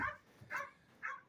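A dog barks three times in short bursts, spaced about half a second apart, fairly quiet and close by with no talk over it.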